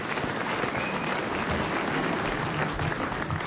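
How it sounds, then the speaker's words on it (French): Dense, steady applause from the audience at a festival appearance on a French radio show, a continuous crowd clapping that fills the moment with no clear talk on top. "Applaudi par la population"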